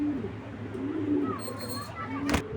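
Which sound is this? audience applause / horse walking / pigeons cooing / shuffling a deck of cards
pigeons cooing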